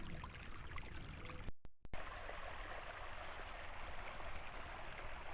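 Water flowing steadily along a bisse irrigation channel in spring, a constant close rushing stream with a brief dropout, no voices.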